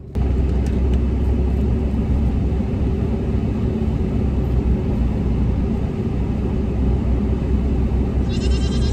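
Constant loud engine rumble and road noise inside a moving truck carrying fainting goats, a steady low drone filling the whole stretch with no clear bleats standing out.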